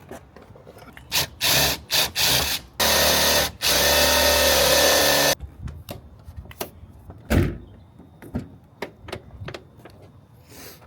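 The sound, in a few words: power drill self-tapping screws into doors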